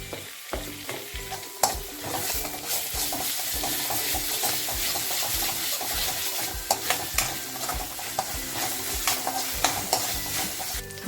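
Onion and ginger-garlic paste fry in a little oil in a village kitchen pan, sizzling steadily and loudly while a spatula stirs and scrapes in frequent close strokes throughout.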